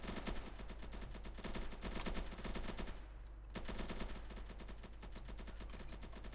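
Rapid automatic gunfire from the shooter game Polygon rattles on loudly and continuously, breaks off for a split second, then resumes in dense bursts with no voices.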